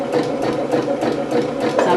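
A sewing machine runs steadily while stitching an invisible zipper into an unlined dress, a close, even mechanical whir with a fast regular stitching pulse and no talk over it.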